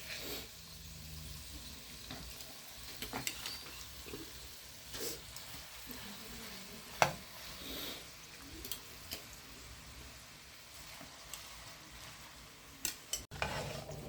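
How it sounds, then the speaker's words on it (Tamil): Mashed potato being added to spices in a pan and stirred, a soft sizzle under scattered spoon scrapes and knocks, close and fairly quiet, with a few sharper taps. "இப்போ வந்து உருளைக்கிழங்க மசிச்சு வச்சுமே அதை போட்டுக்கணும்"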